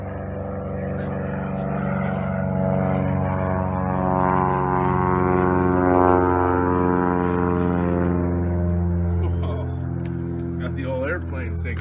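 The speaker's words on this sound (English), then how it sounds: "Got the old airplanes taking off out here." Propeller airplanes taking off outdoors, a loud steady droning engine roar with strong harmonic hum that swells and holds across the whole stretch, with people talking over it.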